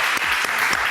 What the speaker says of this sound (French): On applaudit très fort, bravo.